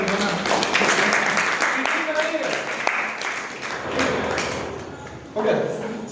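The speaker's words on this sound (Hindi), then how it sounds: "रोहित दीक्षित जी के लिए तालियां जोरदार" Audience applause at a stage event in India, clapping from a crowd fading in and out beneath a voice, with a thump and a fresh burst of claps near the end.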